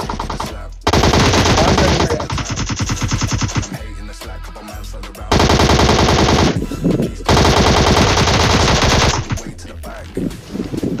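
Rapid automatic gunfire in PUBG Mobile Lite, long loud bursts of machine-gun fire broken by short pauses, very close, with occasional voices under the shooting.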